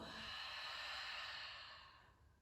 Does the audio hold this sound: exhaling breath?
yes